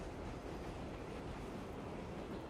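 Steady train interior ambience from the Tsukihime video game, a continuous muffled rumble of a carriage in motion with no talk or distinct events.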